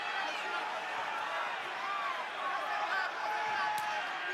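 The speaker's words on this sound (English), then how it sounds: "I believe I'm hearing Silva chants here in Melbourne." Arena crowd at a UFC fight between Anderson Silva and Israel Adesanya in Melbourne, a steady roar of many voices with faint chanting rising and falling throughout, far off and continuous.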